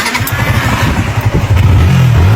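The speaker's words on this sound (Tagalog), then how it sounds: "Ayusin mo nga tong motor, Kalbo." A motorcycle engine starts and revs after being repaired, close and loud, with a clattering mid-pitched idle that rises in a couple of revving surges toward the end.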